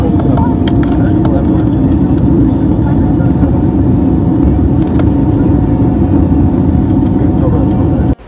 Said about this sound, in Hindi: तो फाइनली अब हमारी लैंडिंग होने जा रही है।